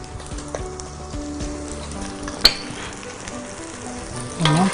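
Meat frying in a pan with garlic gives a steady, close sizzle and crackle throughout, broken by a sharp clink midway and a louder burst of stirring or spattering near the end.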